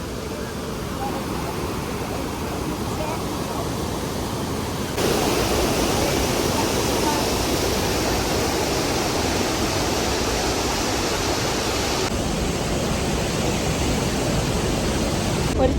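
Rhine Falls in Switzerland roars as a steady, dense wash of falling water heard up close, growing noticeably louder partway through and staying constant, with no voices over it.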